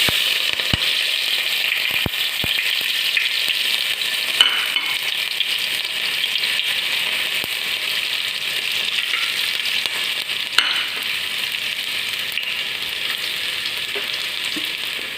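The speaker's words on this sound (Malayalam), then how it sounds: "ഇതിലേക്ക് നമുക്ക് ഒരു 9 ഗ്രീൻ ചില്ലിയും പിന്നെ ഒരു ചെറിയ കുടം വെളുത്തുള്ളിയും കൂടെ ആഡ് ചെയ്ത് കൊടുക്കാം" Green chilies and garlic fry in hot oil for vegetable fried rice, giving a continuous loud, close sizzle with occasional crackles and small pops throughout.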